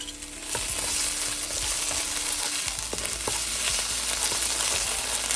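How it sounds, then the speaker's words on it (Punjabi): Ginger-garlic paste roasts in a hot pan for restaurant-style paneer lababdar, a steady close sizzle broken by the scrape and clink of stirring, with no talking. "ਇਹਨਾਂ ਨੂੰ ਆਪਾਂ ਸਹੀ ਭੁੰਨ ਲੈਣਾ ਹਿਲਾ ਕੇ ਚੰਗੇ ਤਰੀਕੇ"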